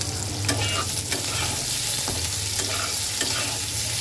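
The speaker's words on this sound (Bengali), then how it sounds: "খুব বেশি ভাজবো না, 2-1 মিনিট একটু ভেজে নেব" Potatoes fry and sizzle in a pan while being stirred, a steady hiss with scattered clinks and scrapes of the spoon, close and alone without speech.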